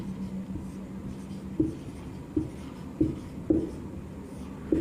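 Writing out an answer by hand during a Sanskrit lesson, a soft steady scratching of pen on paper broken by a few faint taps, quiet and close with no talk over it.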